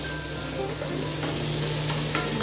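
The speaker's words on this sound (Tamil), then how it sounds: "இப்போ வந்து ப்ரான்ஸை வந்து நம்ம உள்ளே போடுறோம். போட்டு இது நல்லா ஃப்ரை ஆகுதுங்க." Prawns sizzle loudly in hot oil and masala in a pan while cooking a prawn biryani. A continuous close frying hiss is heard, with occasional stirring scrapes and no talking.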